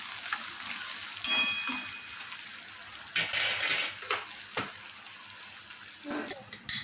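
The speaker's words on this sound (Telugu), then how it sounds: "కొంచెం సాల్ట్ అయితే కొంచెం ఉల్లిగడ్డ తొందరగా గొలుతుంది" Chopped onion frying with a little salt in a pan, a soft steady sizzle close by, broken by a few sharp metal clinks and scrapes of stirring.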